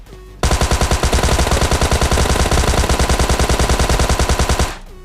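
A Tommy gun fires in the PUBG Mobile Lite video game as one sustained, rapid, evenly spaced burst lasting about four seconds, loud and close, ending abruptly.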